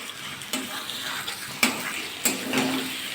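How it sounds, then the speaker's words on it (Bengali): Potol, potato and spices frying in a pan, a steady sizzle broken by a few sharp spatula scrapes and clinks as the mixture is stirred, close and alone. "আর একটু কষিয়ে দেবো আমি পটল দিয়ে আলু দিয়ে মশলা দিয়ে"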